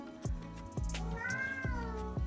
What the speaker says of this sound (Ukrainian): Так, кіт мій там.